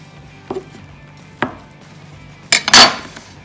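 An egg is mixed into a chicken pasta salad, heard as a few separate sharp clinks of a utensil against a bowl followed by a louder, brief scraping clatter near the end.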